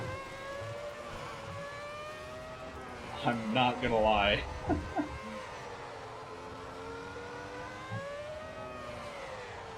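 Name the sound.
2004 F1 car engine driving around Nuremberg, Assetto Corsa video game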